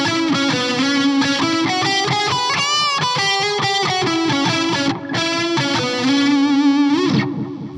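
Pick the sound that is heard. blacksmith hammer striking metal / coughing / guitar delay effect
guitar delay effect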